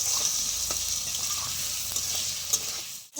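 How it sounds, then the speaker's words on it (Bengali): Potatoes and tomatoes fry in a pan with salt added, giving a steady, close sizzle that runs the whole time, with a brief stirring scrape near the end. "টমেটোটাও হয়ে গেছে আলুটাও লাল লাল করে ভাজা হয়ে গেছে"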